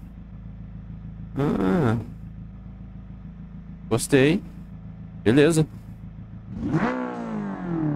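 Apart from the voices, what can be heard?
McLaren car engine in the video game BeamNG.drive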